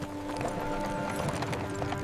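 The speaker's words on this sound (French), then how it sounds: "Soudain, elle entendit le son de chevaux." Horses' hooves clip-clop steadily as a royal carriage approaches along a road, in a quick, even rhythm over sustained background tones.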